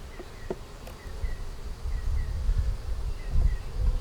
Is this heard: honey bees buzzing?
yes